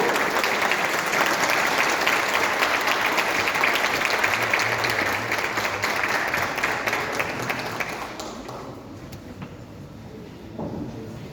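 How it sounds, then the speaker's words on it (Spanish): A church congregation at a Christmas dinner gathering claps loudly and steadily for several seconds. The applause then thins out and fades, with a quieter room and a brief knock at the end. "Un fuerte aplauso, por favor."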